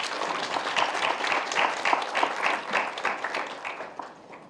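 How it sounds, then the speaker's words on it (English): Sustained applause from a conference audience for student performers, dense steady clapping throughout that tapers off toward the end. "I think they deserve a big round of applause"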